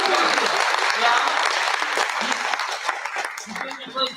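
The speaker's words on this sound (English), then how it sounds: "Let's get him used to the applause, shall we?" An audience at a high school drama show applauds loudly, a steady dense clapping that fades slightly toward the end, with a few spoken words over it.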